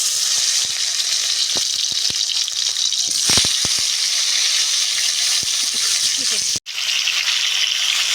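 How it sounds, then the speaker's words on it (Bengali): Mango pieces for pickle hit hot oil seasoned with bay leaf and five-spice, setting off a loud continuous sizzle with a burst of spattering, some stirring taps and a brief pause, while someone talks. "এখন দিয়ে দেব আম"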